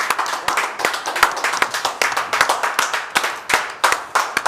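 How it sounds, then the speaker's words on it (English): Audience at an evening session of a residents' conference claps steadily, the sharp individual claps standing out clearly and close, continuing in an even rhythm throughout with no talking. "we need to give you a big round of applause"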